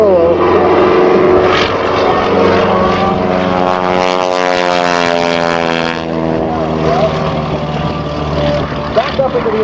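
An aerobatic propeller airplane performs a barnstormer's roll at the Saskatoon air show, its loud engine drone sweeping steadily in pitch as it passes close by and then pulls away.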